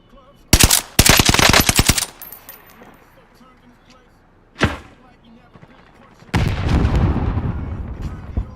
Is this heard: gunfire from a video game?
yes